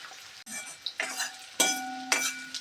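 Chopped onion sautéed in a pan for a kudyachya phulanchi bhaji, with a spoon scraping and clinking against the metal in several stirring bursts over a soft frying hiss.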